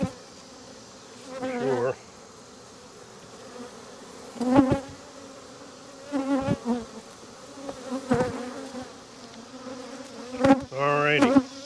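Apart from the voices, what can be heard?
bees buzzing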